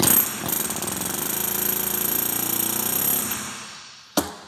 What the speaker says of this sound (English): Air hammer, maybe?